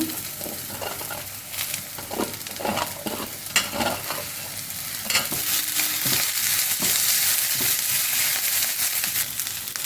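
Onions, curry leaves and coriander stems sauté in a pan, a loud crackling sizzle broken by repeated scraping strokes of a spatula, growing denser and steadier halfway through.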